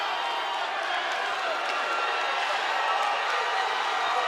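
A boxing arena crowd at a live fight, a steady dense roar of cheering and chatter that holds at an even level with no break for the whole stretch.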